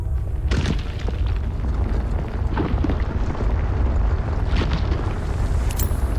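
In the video game Terra Nil, an earthquake rolls through as a loud, continuous deep rumble with low booms swelling and fading throughout, steady and heavy without pause.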